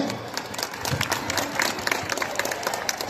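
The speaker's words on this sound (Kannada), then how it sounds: "ಎಲ್ಲ ಸದಸ್ಯರಿಗೂ ಒಂದು ದೊಡ್ಡ ಚಪ್ಪಾಳೆ" A crowd at an outdoor drug-awareness marathon event in Kolar Gold Fields bursts into applause, with many hands clapping for about three seconds and a murmur of voices mixed in.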